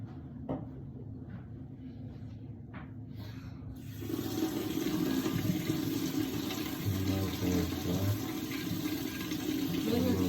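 Tap water runs into a kitchen sink to wash eggs, starting after a few faint knocks and continuing as a steady close splashing stream.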